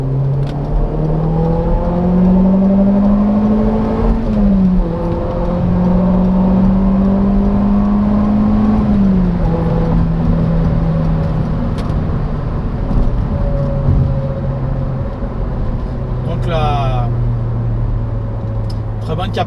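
A 2006 Peugeot 307 2.0 180 Feline, three-door, with the 206 RC engine, accelerates from 50 in second gear, a loud, steady engine drone that climbs in pitch, heard from inside the cabin under a man's ongoing speech.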